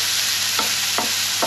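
Bacon strips frying in their own fat in a pan with no oil, a loud steady sizzle broken by a few short scraping stirs about every half second.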